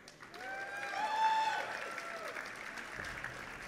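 A live StarCraft 2 tournament crowd at IPL 3 applauds and cheers, with a swell of whoops and shouts that peaks and then settles into sustained clapping.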